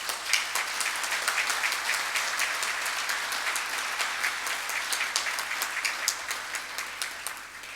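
An audience at the closing ceremony of a Panamanian procedural law congress applauds the congress president, steady, dense clapping from many hands sustained throughout at an even level.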